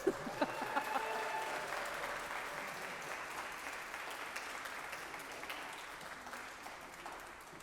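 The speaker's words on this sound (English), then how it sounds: "You can applaud." Sustained applause from a congregation at a worship service, steady clapping heard from some distance at moderate volume.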